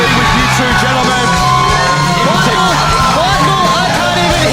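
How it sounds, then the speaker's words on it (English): A pro wrestling crowd at Adrenaline Pro Wrestling's Breakout 40 show roars continuously and loudly, packed with yells, whoops and shouted voices in a dense, overwhelming wall of cheering. "I can't even hear your voice because the crowd has gone absolutely mental"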